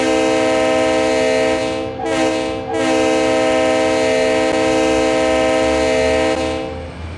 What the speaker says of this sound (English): So we've got the rail milling train down again today.